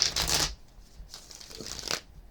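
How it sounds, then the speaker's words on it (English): Tarot oracle cards are shuffled in two quick, quiet riffling bursts with a short pause between them, close by and without any talk. "let's go ahead and shuffle up the cards real quick"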